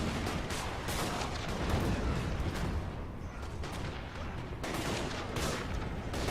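Handgunners fire in a Total War: Warhammer siege battle at Altdorf, a dense, continuous crackle of massed gunfire and booms heard at a distance, steady and loud throughout.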